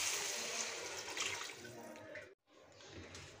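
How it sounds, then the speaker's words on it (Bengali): Water pours into a pan where onions and egg have been cooking, a brief rushing gush with hissing that cuts off sharply, then a softer splashing trickle resumes. "এখন দিয়ে দিচ্ছি পানি,"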